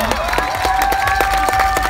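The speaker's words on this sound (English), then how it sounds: "Let's give them one last big round of applause." Loud, sustained applause and cheering from a crowd at the Miss Universe 2017 national costume show, dense clapping over a steady held tone.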